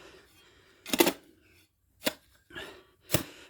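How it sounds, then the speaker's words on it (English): Sand and cement being mixed by hand in a bucket, heard as four sharp scraping, chopping strokes spaced about a second apart, close and fairly quiet with near silence between them. "So I'm just starting another mix of sand and cement."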